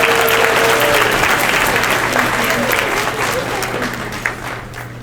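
An audience applauding and cheering at a cotillion and beautilion scholarship award, a loud dense wash of clapping with crowd noise and a steady hum, slowly fading toward the end.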